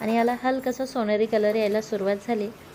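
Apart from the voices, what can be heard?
No everyday noises stand out.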